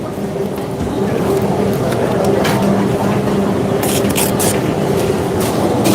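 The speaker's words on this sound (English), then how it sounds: "I am in a kitchen environment at work, and it tends to get a little noisy every now and then." Loud, constant mechanical rumble and hum of a busy kitchen, with machinery droning and faint clatter and hiss layered on top.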